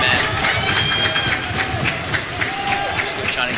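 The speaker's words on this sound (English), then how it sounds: "Crowd's yelling, stalling" An indoor crowd yells at a college wrestling match, a dense, loud, continuous roar of voices and shouts with scattered claps, close and unbroken.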